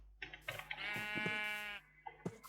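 Sheep bleats from the Minecraft video game, several short wavering calls with one long sustained bleat in the middle, clear and alone without speech.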